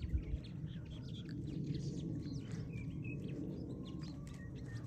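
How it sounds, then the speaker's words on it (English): Wild birds chirp and call around a farm while feeding on duck and goose food, a steady outdoor chatter of small calls under a continuous background hum. "See all these birds flying around."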